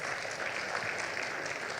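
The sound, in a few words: audience applause at health conference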